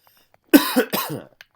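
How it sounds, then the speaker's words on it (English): Two or three quick, close coughs in a row, the last one a bit of a throat-clearing, surrounded by near silence. "Sorry, got a bit of a cough."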